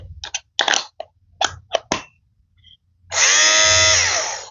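A cheap battery-powered fabric shaver lint remover starts up with a loud, steady high-pitched motor whine that runs alone for over a second, following several clicks and knocks as it is handled.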